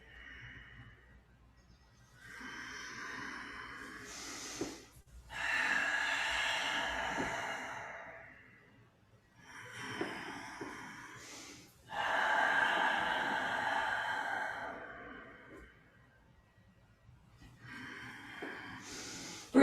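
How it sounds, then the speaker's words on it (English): Slow nasal breathing during a yoga exercise for the lower back and hips, several long audible inhales and exhales through the nose in an even rhythm, close and fairly soft, with short quiet pauses between breaths. "Breathing in and out through the nose if you can."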